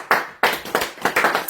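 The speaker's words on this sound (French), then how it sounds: "Applaudissez le Seigneur." Church congregation clapping hands in a steady rhythm, several sharp, close claps in quick succession with no talk over them.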